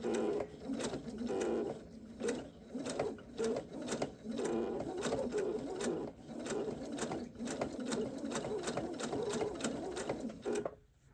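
A hand-crank sewing machine quilts through fusible appliqué with steady, continuous rhythmic stitching. It runs close and fairly loud at an unhurried pace, then stops just before the end.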